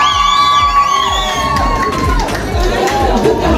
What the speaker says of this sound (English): Nedbank, make some noise.